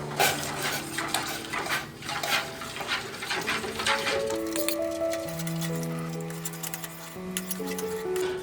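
A spoon scrapes and clinks against a metal pot as thick rice flour dough for papad is stirred, over a low hum and some steady tones, with no talking.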